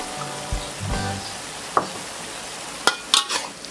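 Tofu and bean sprouts are stir-fried in a pan: a faint, low sizzle with a few sharp spatula clicks and scrapes near the end. No talk.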